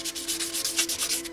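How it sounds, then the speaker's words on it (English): Fine 600 grit wet and dry sandpaper rubs back and forth over painted metal, a quick run of rhythmic close scratchy strokes heard alone. "Now some 600 sandpaper will knock this down."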